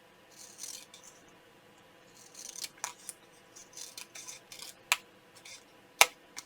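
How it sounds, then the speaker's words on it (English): Scissors snip along the excess edges of a handmade Christmas gift card tag, a series of light, crisp cuts at an uneven pace with two sharper snaps near the end, close and alone. "I'm going to take my scissors, and I'm just going to trim right along that excess on both sides."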